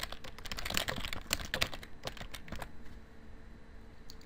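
Quiet, steady tapping of keys as a sentence is typed on a computer keyboard, irregular clicks in quick succession with no voices.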